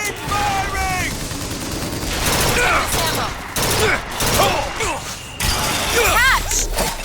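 Rapid bursts of gunfire during a BioShock Infinite firefight, loud and continuous with whooshes and mechanical clatter, layered under shouted game dialogue and music-like tonal sweeps.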